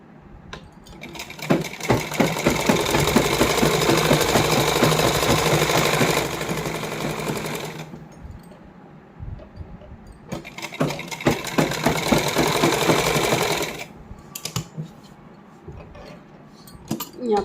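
A sewing machine stitches the inner lining onto a heavily hand-embellished suit, running in two long steady bursts of several seconds each, with short pauses and light handling clicks between them, close and fairly loud.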